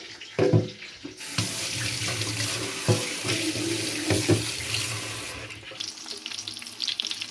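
A kitchen tap runs continuously as something is rinsed under it in a sink, with clattering handling noises throughout while eggplant fries nearby.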